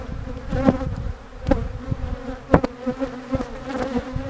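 Honey bees buzz around a hive, a close, dense hum with individual insects droning past in irregular swells, no voices.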